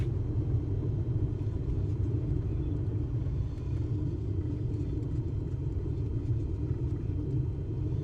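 An aircraft engine running at full throttle in Microsoft Flight Simulator 2024, a steady, low, droning roar that holds constant throughout with no speech.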